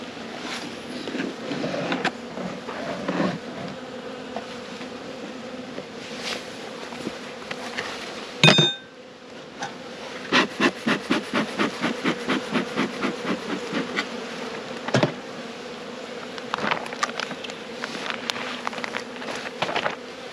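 Honey bees buzz steadily around an open beehive box in an Australian apiary, a continuous close drone with scattered clicks and bumps of handling over it and a sharp knock midway.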